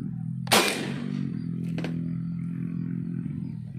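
A single sharp shot from an Air Force Condor 4.5mm PCP air rifle, a loud crack followed by a brief decay. A steady low hum runs underneath and a faint click follows a second later.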